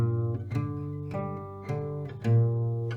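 Low plucked acoustic guitar notes on the three bass strings, a short riff of five or six picked notes from a song, each ringing before the next.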